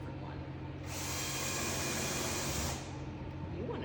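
A power drill drives a screw into the wooden frame of an ottoman, a steady loud whir running for about two seconds before easing off, with workshop noise on either side.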